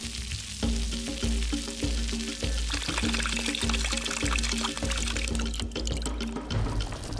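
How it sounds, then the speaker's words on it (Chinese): Yak meat drops into a pot of Tibetan butter curry spiced with curry powder and wild Sichuan pepper in Nyingchi, frying with a continuous loud sizzle and bubbling under a rhythmic musical backdrop. "牦牛肉下锅的时机到来。"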